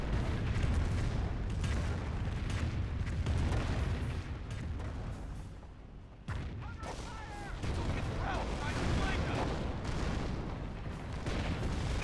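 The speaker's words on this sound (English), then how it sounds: "And here comes another Calliope rocket barrage." Calliope rocket barrage in the Company of Heroes 1 video game, a dense, loud rolling string of booming explosions and crackling impacts that swells, dips briefly, then resumes for several seconds.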